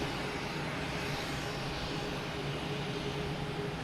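A Lufthansa airliner departing Boston Logan for Germany, a steady broad engine roar at moderate distance that holds constant throughout without talk.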